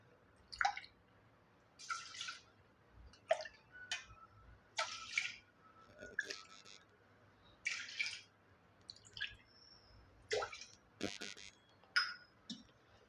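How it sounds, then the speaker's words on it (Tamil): Water is poured onto washed rice in a pressure cooker for pongal, making quiet splashes and trickles that come in short, irregular bursts. "இப்போ தண்ணி சேர்த்துக்கலாம்"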